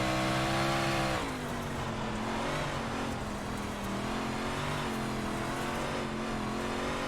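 Dirt race car engines in iRacing roar steadily with layered harmonic whine, a sustained loud drone that dips briefly then holds, like cars running at speed on the Port Royal track.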